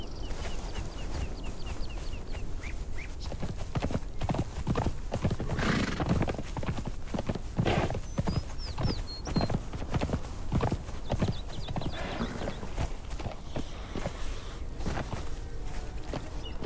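Horse hooves in Conan Exiles, clip-clopping steadily and close at a brisk gait, with a neigh or two and faint bird chirps behind them.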